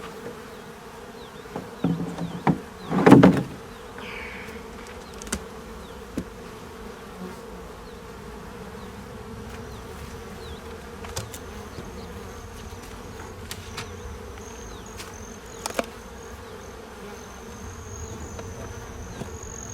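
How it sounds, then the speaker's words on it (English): Honey bees buzz steadily around a beehive, a constant droning hum close by, with a few louder bumps and handling knocks early on and no talking. "the bees are just buzzing and buzzing, buzzing"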